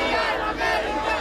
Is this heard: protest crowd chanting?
yes